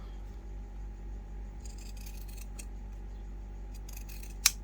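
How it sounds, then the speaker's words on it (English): Scissors trim the long sides and top edge of a sewn fabric wallet with card slots, giving a few soft, close snips and rustles over a steady low hum, with one sharp click near the end. "you're just going to trim along those long sides without going into our stitching that we just done"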